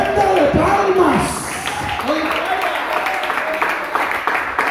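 A church congregation applauds, with a dense wash of clapping under a preacher's amplified voice, which fades slightly as the speech continues.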